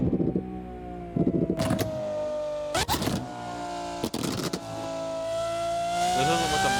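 Simulated Lamborghini Aventador SVJ engine in the Assetto Corsa racing game, a steady droning tone that climbs gradually, broken by a few sharp bursts like gear shifts or exhaust pops, with no talking.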